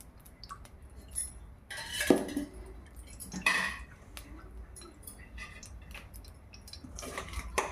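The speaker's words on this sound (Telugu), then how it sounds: "ఫ్రెండ్స్ ఇలా ఒక పెనం పెట్టుకోండి" A frying pan is set down on a stovetop, giving a few close metallic clanks and scrapes, with quieter clinks in between.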